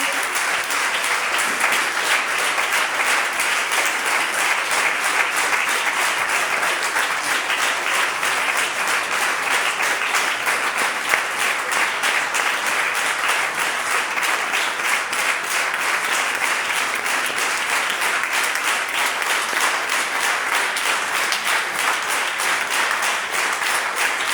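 A church congregation applauding during a sermon, a dense continuous wash of many hands clapping that stays loud and even throughout, with a faint voice buried beneath.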